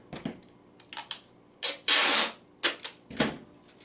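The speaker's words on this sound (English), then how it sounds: "Then we tape down the middle line again." Packing tape on a cardboard shipping box for reptiles, several short ripping pulls and one longer loud screech as a strip is drawn off the roll, then taps as it is pressed down, close with no talking.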